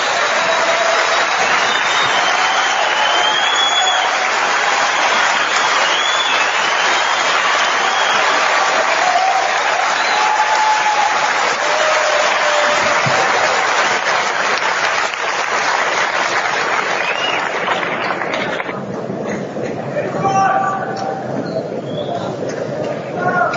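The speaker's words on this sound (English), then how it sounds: "Wow, it's a long clap." A large audience applauds continuously for a long stretch, a dense loud wash of clapping that thins slightly near the end, with some crowd murmur mixed in.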